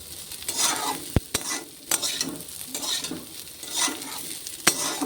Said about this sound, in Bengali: চাউলটি একটু ভেজে নেবো আর কি ভালো করে